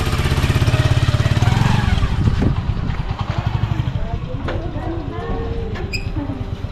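A new motorcycle's engine idles close by with a steady low chugging throb that stays loud throughout, while people talk over it.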